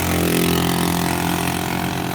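Steady loud engine drone from a motorcycle or scooter fitted with a modified loud exhaust on a roadside near Bambang, holding an even, continuous rumble throughout with no voices.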